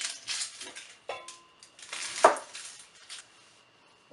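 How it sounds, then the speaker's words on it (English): A knife cutting up onions and squash on a board for red lentil soup, a run of close, light clicks and taps with a few sharper knocks, sounding alone without talk. "I'm going to start by cutting up onions and cutting up the squash."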